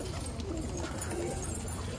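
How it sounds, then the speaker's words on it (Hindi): Flock of domestic pigeons let out inside a netted enclosure, soft cooing and bird calls blending into a steady, dense murmur with faint wingbeat-like patter throughout. "और भाई ये हमारे सारे कबूतर खुले हुए हैं, कुछ अंदर हैं कुछ बाहर हैं"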